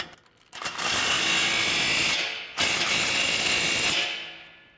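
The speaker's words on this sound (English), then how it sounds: "Now we can tighten down our tailpipes" A ratchet wrench with a 15 mm socket rapidly clicks while tightening exhaust pipe clamps on a 2009-2018 RAM 1500 5.7L, two long bursts of dense ratcheting close by with a short pause between them.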